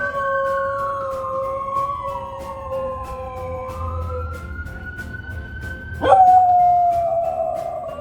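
A dog that was once a stray puppy howls loudly and close by in long, sliding, wavering tones, starting out alongside a passing ambulance siren and then rising sharply into a strong sustained howl.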